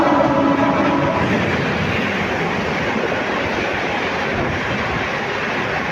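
A Mumbai Central Shatabdi Express, train 12010 from Ahmedabad to Mumbai Central, rushes past at speed close by, its loud, steady rumble and wheel clatter filling the whole stretch with no voices.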